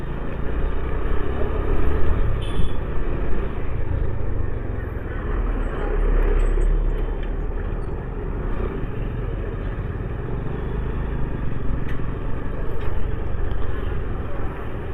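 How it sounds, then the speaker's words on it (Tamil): Continuous road traffic on a narrow road in Keeranur, Pudukottai, with cars and motorbikes passing close by, steady engine drone and passing swells, no talk. "இந்த ஏரியா சின்ன ரோடாக தான் இருக்குது, அதனால டிராஃபிக் நிறையா இருக்குது."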